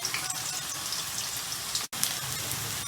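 Sliced onions fry in hot oil for khara masala keema, giving a steady, close crackling sizzle with dense fine popping. A brief dropout near the two-second mark interrupts it before the sizzle resumes.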